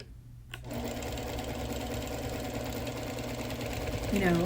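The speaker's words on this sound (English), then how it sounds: "I'm stopping and starting to avoid over quilting." A sewing machine quilting a wool wall quilt runs in a steady, continuous drone after a brief quiet start, close and fairly loud, with a slight shift in pitch near the end.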